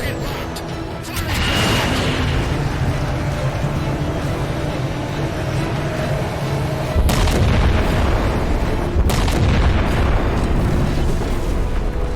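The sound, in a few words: ship's weapon firing and exploding in Halo 4 video game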